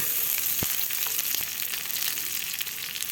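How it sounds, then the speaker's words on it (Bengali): Garlic, ginger and cumin paste frying with onions in a pan, a steady close sizzle and crackle throughout with a few sharp pops, no voices. "মশলাটা আমি ভাজে নেব"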